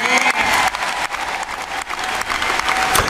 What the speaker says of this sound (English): that was the end of his speech, and they clapped, and they stood up, and they did the polite thing